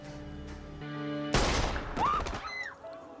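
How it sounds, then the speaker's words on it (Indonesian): Soldiers in a film fire their guns in a loud, dense burst of gunfire that breaks in abruptly after a sustained tone, then trails off into ringing and scattered sounds. "tiba-tiba mayoritas menembakkan senjatanya menyebabkan Zulfi meninggal"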